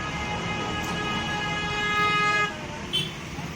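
Congested evening road traffic on the way to a village market: a car horn blares in a long steady toot for over two seconds, then a short second honk, over a low rumble of engines.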